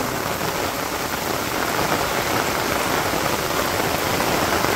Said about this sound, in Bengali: বৃষ্টি দেখলাম মোটামুটি ভালোই বৃষ্টি।